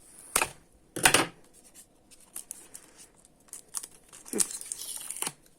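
Plastic packaging crinkling and tearing as a taped stand is freed from a parcel holding a cube and timer, with a few sharp rustles and rips up close, then a longer stretch of crackling.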